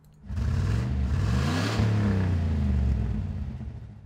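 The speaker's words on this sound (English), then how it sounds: "That's some power for ya. Good old Ruth Powers' car." Ruth Powers' car in The Simpsons: Tapped Out mobile game revs loudly and steadily for about four seconds, its rising and falling engine tones rumbling with no talk over it.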